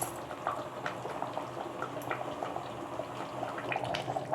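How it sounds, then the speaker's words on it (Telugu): Fish curry simmers in a covered pot on low heat, a soft continuous bubbling with scattered small pops and ticks, steady and moderately quiet. "ఇప్పుడు ఇంకా మూత పెట్టి సిమ్లో పెట్టుకొని ఉడికించాలి"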